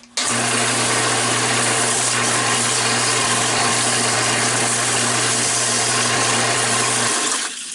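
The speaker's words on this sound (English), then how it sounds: "now I'm just going to denib it again with a scouring pad" A turned wooden bowl for a pierced bowl project is denibbed with a scouring pad while spinning on a woodturning lathe, heard as a loud, steady motor hum with a constant hiss of abrasion running for about seven seconds.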